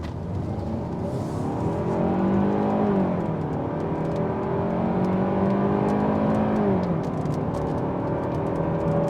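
A 2025 Hyundai Sonata SEL Convenience accelerating under throttle, its engine note rising steadily in pitch through a gear change and climbing again, heard from inside the cabin as a continuous moderate hum with no talk.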